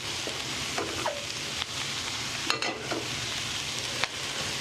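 Cabbage sizzling in a hot pan for a warm soba salad, a steady frying hiss with a few soft clinks and stirring scrapes, close and moderately loud with no talking.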